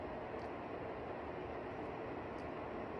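A Loytio HY1800 air purifier fan runs steadily on its second speed, giving an even, close broadband whoosh of moving air with no talking over it.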